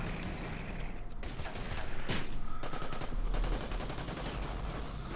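Flamethrower tank attacking in the strategy game Order of Battle, a steady roaring gunfire-like barrage with a rattling burst of rapid repeated cracks in the second half, moderately loud and continuous.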